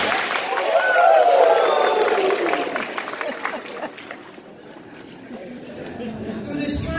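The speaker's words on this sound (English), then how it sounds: "Give me 2 claps and a Ric Flair" A live audience at a poetry performance claps and cheers on request, a burst of crowd applause and chatter that fades, then rises slightly again near the end.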